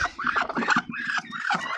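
A hen squawks and clucks loudly and close in a farmyard, with a rooster also calling, a rough, agitated calling in short repeated bursts.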